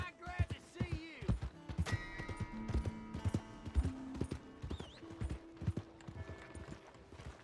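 Horse hooves clip-clop in a loose, uneven rhythm with a couple of neighs and snorts in the Red Dead Redemption II video game, close and fairly quiet, with brief voices mixed in.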